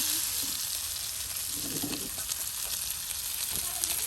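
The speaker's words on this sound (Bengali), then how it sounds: "একদম মসমসে ভাজা নানি তেলের সাথে করে নিচ্ছে" Fish frying crisp in hot oil, a steady close sizzle with a dense crackling hiss that keeps going throughout, with soft spatter and faint stirring or low kitchen sounds beneath.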